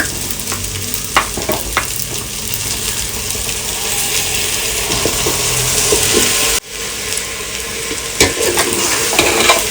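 Marinated jackfruit for a jackfruit biryani sizzles loudly in a pan while a spoon scrapes and stirs it in repeated strokes, with one brief break in the sound partway through.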